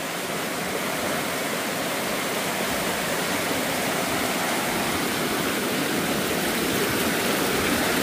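A river running high after Storm Sara rushes past in a loud, steady, close roar of churning water, broadband and unbroken with no talk.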